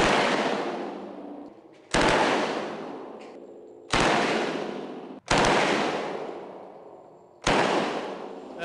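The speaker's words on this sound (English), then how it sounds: "Dean, you want to shoot a Thompson submachine gun?" A Thompson submachine gun fires five loud, sharp shots spaced about two seconds apart, each with a long ringing decay, up close and alone.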